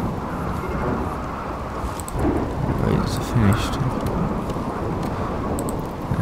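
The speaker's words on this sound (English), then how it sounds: "The rain put out all that lovely fire." Steady rain with rumbling thunder in the RimWorld video game, a continuous dense wash of downpour with low rolls swelling midway, heard under brief talk.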